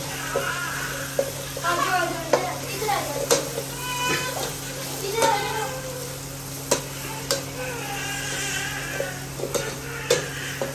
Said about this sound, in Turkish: Bunu ben karıştıracağım.